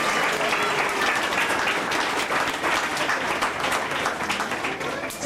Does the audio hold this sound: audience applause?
yes